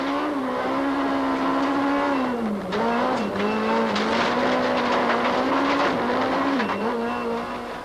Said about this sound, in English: Watch closely as he gets the Golf going sideways as he passes